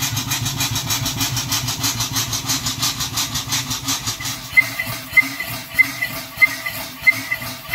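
An Ashworth Parker engine runs steadily, driving a DC dynamo, with a pulsing mechanical chug that settles into slower, distinct periodic beats with sharp metallic ticks toward the end.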